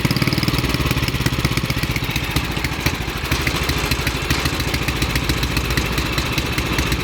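A 1971 Toro 726 snowblower with a Briggs & Stratton 7 hp, 275 cc engine runs loudly and close by, a rough, clattering putter that holds steady throughout with no talking.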